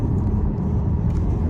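A Volkswagen Tiguan with a manual gearbox drops into second gear for sporty driving, its engine a steady low rumble with road noise filling the cabin, no voices.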